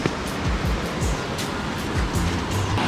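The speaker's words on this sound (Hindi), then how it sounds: "तो एंट्री करते ही आपको ऐसा वाटर फ्लो दिखेगा, और इसका स्पीड काफ़ी ज़्यादा तेज है" Fast-flowing water rushing through the entrance of Robber's Cave (Gucchupani) in Dehradun, a loud, steady, unbroken roar close by with no voices.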